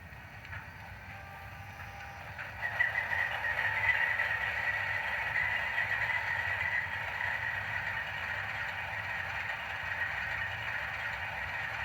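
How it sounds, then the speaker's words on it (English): An HO scale Trains Operator Dash 9 model locomotive, rebuilt as an AC44C6M, plays its sound startup sequence. A diesel engine drone rises after a couple of seconds, then settles into a steady, moderate hum. "these locomotives do have a startup sequence, so we're going to listen to that now."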